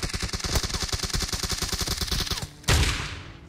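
Rapid automatic gunfire from a PUBG firefight as a teammate takes down an enemy, a long dense burst of shots followed by a single louder, heavier blast near the end.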